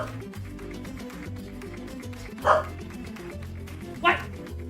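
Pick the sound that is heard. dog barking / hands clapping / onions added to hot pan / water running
dog barking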